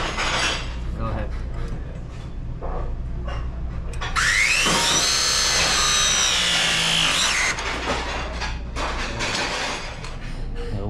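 Milwaukee power tool cutting through an ice maker drain pipe on a Hoshizaki unit, a loud, steady high-pitched whine lasting about three seconds with rising and falling pitch, set amid workshop clatter and background noise.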